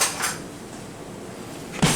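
A spoon is fetched from a kitchen drawer, giving a sharp clink of metal on dishes at the start, a quieter rattle, and a louder clatter of cutlery and crockery at the end.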